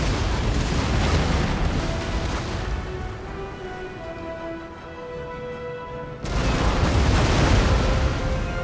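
A warship cannon broadside in the video game Empire Total War, a sustained roaring rumble of booming fire that eases off midway, then swells loud again in a fresh abrupt blast.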